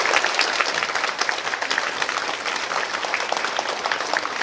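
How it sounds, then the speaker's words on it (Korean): Steady, dense applause from an audience at a magician's card-trick show during a district office event, sustained at even loudness throughout with no talking over it. "이런 제 노력에 대해서 박수로 답해주셔서 다시 한번 감사합니다"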